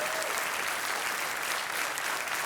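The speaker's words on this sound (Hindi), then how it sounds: "एक बार फिर तालियों के साथ इनका अभिनंदन करते हैं" A studio audience on a TV quiz show applauds steadily, a dense, even wash of clapping that holds at constant loudness without any pause.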